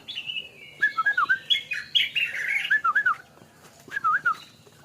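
A stripe-throated bulbul fledgling answers with a series of bright, bubbling chirps and warbles in quick bursts, close by, with a pause before a final short phrase.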